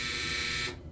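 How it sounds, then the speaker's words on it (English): Clothes dryer end-of-cycle buzzer sounding as one loud, steady, harsh electronic tone that holds for most of a second and then cuts off abruptly. "that's the I fixed it buzzer, and also known as the dryer"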